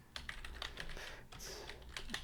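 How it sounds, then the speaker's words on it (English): Fast, steady clicking of a computer keyboard being typed on, close and quiet, with keystrokes coming in quick irregular bursts and no voices. "I cannot type and talk at the same time."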